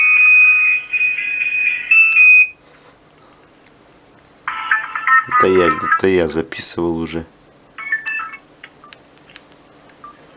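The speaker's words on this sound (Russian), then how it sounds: "Samsung рингтоны пошли." An LG KF300 mobile phone plays ringtones: a high electronic melody, then a louder burst of bright beeping tones with a few short chirps afterward, while someone talks between them.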